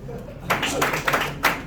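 Audience clapping at a faith conference church service, bursts of claps starting about halfway through, moderately loud and mixed with some voices.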